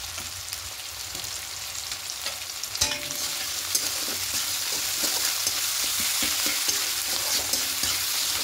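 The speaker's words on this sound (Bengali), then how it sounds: "এবার হালকা করে ভেজে নেব, পেঁয়াজ টমেটো নরম হওয়া পর্যন্ত একটু ভেজে নেব।" Chopped onion and tomato with salt fry in a pan, a constant hiss of sizzling with repeated stirring scrapes that grow busier partway through.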